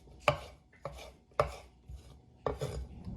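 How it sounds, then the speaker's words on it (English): A knife cuts a very ripe red pepper into chunks on a board, giving four sharp, distinct chops at uneven intervals, close and fairly quiet, and no one speaks. "I'm just cutting up the pepper."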